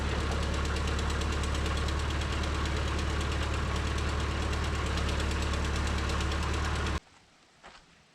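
A backhoe engine running close by with a loud, steady, knocking diesel idle for about seven seconds, then cutting off abruptly, leaving quiet with a faint thump.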